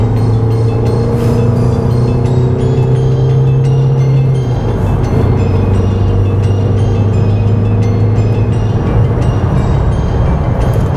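A 2012 Volkswagen Golf TDI diesel pulls hard up an on-ramp onto the highway in third gear, its loud steady engine drone dipping in pitch around the middle before climbing again, with no talking.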